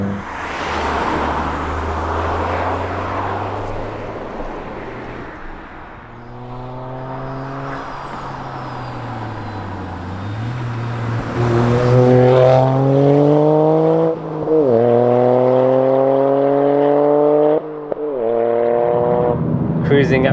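Toyota GR Yaris fitted with an Akrapovič titanium race exhaust and OPF delete, heard from inside while driving: a low engine drone rising through several gears as it accelerates, each pull climbing then dropping at shifts.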